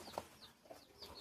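Hens clucking briefly at a home coop, a few soft clucks close by, faint and quiet.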